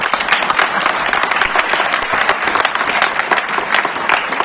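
Audience applause fills the hall at a police award ceremony, a dense, loud clapping from many hands that stays steady and unbroken throughout, with a faint crowd murmur beneath.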